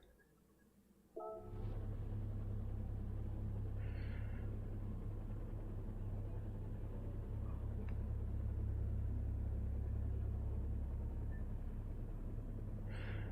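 Race car engines of Audi TT Cup cars idling and rolling out of pit lane in a racing video game, a steady loud low rumble that starts abruptly and holds, with faint higher engine notes now and then.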